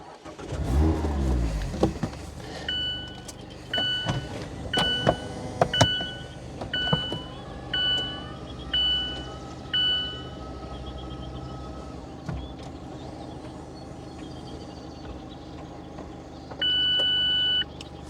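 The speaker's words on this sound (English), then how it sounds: "So you have to get inside, turn on the car, and then operate the roof." The power hardtop roof of a 2026 Mazda MX-5 Miata RF GT cycles through a run of whirring motor pulses and clunks after the engine starts, closing with a sustained electronic beep.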